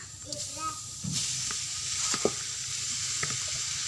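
Fish sizzling as it is pan-roasted for a spicy fish salad, soft frying hiss with occasional stirring scrapes and clinks, a voice talking briefly near the start.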